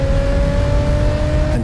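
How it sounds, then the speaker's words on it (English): A Jaguar F-Pace SVR with a variable valve active exhaust revs steadily, a loud close engine drone with a sustained tone throughout, cutting off briefly near the end. "With the variable valve active exhaust system enhancing performance capability"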